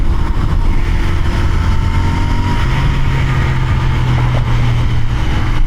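A Royal Enfield Continental GT 650 motorcycle engine on the move gives a loud, close, continuous throbbing drone that stays steady throughout, with its pitch shifting slightly midway, and there is no talk.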